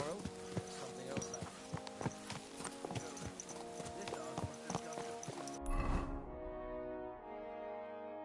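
Horse hooves clip-clopping in a steady, quick rhythm at close range, continuing for several seconds before stopping abruptly, followed by a low rumble and fading tones; a voice is faintly present.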